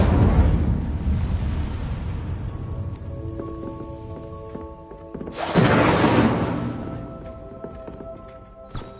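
Incendio fire spell blasts in Hogwarts Legacy, two whooshing, crackling bursts of flame a few seconds apart, each flaring loudly and fading into a rumbling tail.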